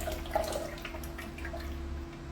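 Fresh juice streams out of a juicer spout in a continuous wet trickle with a low steady hum underneath, close and fairly quiet.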